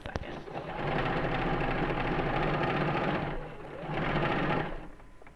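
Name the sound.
sewing machine stitching around a blanket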